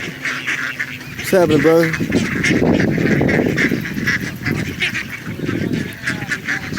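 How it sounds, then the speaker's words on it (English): Ducks and geese being fed at a waterside park, honks and quacks mixed with close chatter from several people and a steady outdoor background. "They're feeding ducks."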